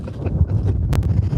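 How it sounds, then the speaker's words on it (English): Strong wind buffets a microphone during an outdoor morning walk, a constant low rumbling roar with gusty pulses and a couple of brief knocks. "It's very windy."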